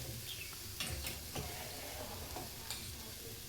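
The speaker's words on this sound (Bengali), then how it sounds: "আর এদিকে দেখুন গাজরটা কতটা ভাজা হয়েছে" Grated carrots frying in ghee in a pan for a sweet rice pudding, with a steady soft sizzle and a few sharp scraping strokes of a stirring spoon, close and unaccompanied by talk.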